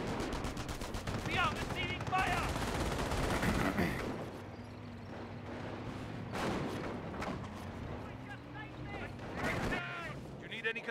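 Scattered bursts of gunfire from German Grenadiers in a Company of Heroes match crackle through a busy World War II battlefield mix, with several short volleys spread across the span and steady rumble underneath.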